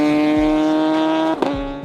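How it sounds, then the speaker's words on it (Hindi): A superbike with an Akrapovic aftermarket exhaust revving, a loud, raspy, steady engine note that dips briefly, then holds again, heard close and alone. "एक टिपिकल एक्रोपोविच एग्जॉस्ट कुछ ऐसी आवाज प्रोड्यूस करता है।"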